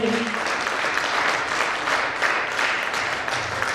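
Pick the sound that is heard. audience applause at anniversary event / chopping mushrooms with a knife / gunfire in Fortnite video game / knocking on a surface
audience applause at anniversary event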